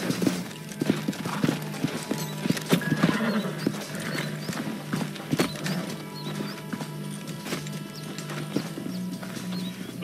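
Horses' hooves clip-clop steadily across ground in the Red Dead Redemption video game, a close, continuous rhythm of hoof strikes with an occasional neigh, over faint background ambience and no talking.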